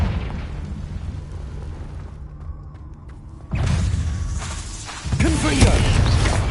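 The Confringo explosion spell in the video game Hogwarts Legacy goes off as loud, rumbling booms and bursts over continuous game sound, with a short quieter lull in the middle before the blasts swell again.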